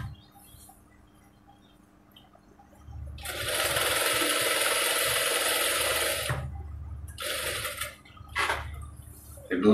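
Sewing machine stitching a pillow cover, a fast close mechanical chatter in a couple of bursts, the longest running a few seconds, with brief handling clicks between them.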